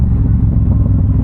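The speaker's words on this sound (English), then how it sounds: "Exhaust sounds amazing today though." A motorcycle exhaust rumbles steadily and loud from close by, a constant low drone filling the short stretch with no talk over it.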